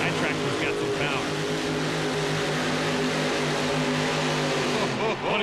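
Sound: pulling tractor engine with Keith Black and Chevy-based engines

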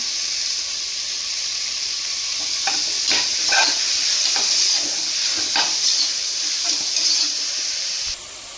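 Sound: crushed shallots sizzling as they are added to the pan

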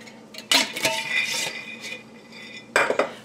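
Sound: stirring pecans into rocky road fudge mixture

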